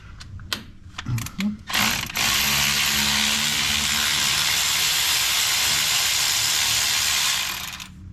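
A socket ratchet loosens the bolts on a reassembled part, starting with several quick clicking strokes, then giving way to a long, loud, steady hissing mechanical whir up close.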